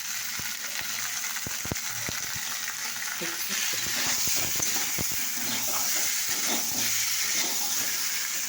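Spices and turmeric fry and are stirred in a hot pan for a dal, producing a constant close sizzle and hiss broken by scattered scrapes and clicks of stirring, with no talking.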